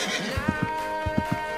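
A horse neighs in a Roblox obby game, with short whinnying bursts and low thuds of hooves, close and steady against a constant synthetic game tone.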